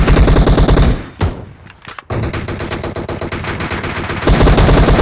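Rapid automatic gunfire in PUBG's Gun Game mode, loud and sustained bursts of shots with a brief lull in the middle before the firing resumes.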